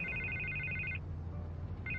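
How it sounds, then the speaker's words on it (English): A telephone rings in the video game Batman: The Telltale Series: an electronic trilling burst, a pause, then the next ring starting, over low background hum. "I can't get the phone to stop ringing."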